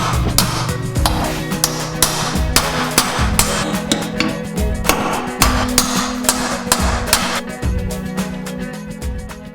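Tile nippers bite into full-body porcelain stoneware tile while a large circle is cut, producing a steady series of sharp, close cracking snaps over a constant low mechanical hum.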